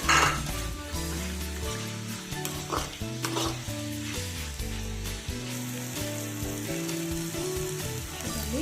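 Steady sizzling of ponaganti leaves frying in a pan, with a utensil stirring and scraping against the metal throughout, close up and without speech.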